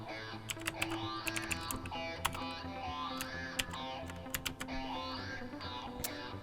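Fast clacking on a computer keyboard while code is written, with rapid irregular keystrokes in quick bursts and sharper hits at intervals, close and clear, and no talking over it.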